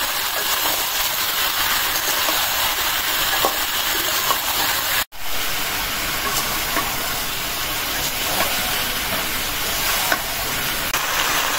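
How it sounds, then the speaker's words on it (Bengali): Potato, greens stalks and drumsticks frying in a pan at a village kitchen, a steady loud sizzle with faint stirring scrapes, broken by one brief dropout midway. "সাজনা দিয়ে কষাই নিলাম, এখন ভেজে দেবো।"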